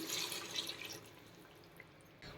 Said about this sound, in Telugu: ఒక గ్లాస్ వాటర్ పోస్తున్నాను